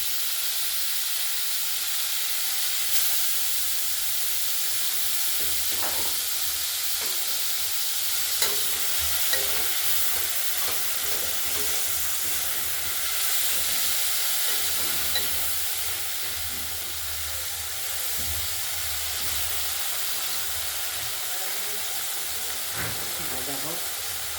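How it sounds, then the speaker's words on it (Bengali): Continuous loud sizzling of shrimp frying in hot oil, with occasional scrapes and stirring clatter over the hiss. "এটা প্রথমেই আমরা ভেজে নেবো তেলটা যেহেতু গরম হয়ে গেছে"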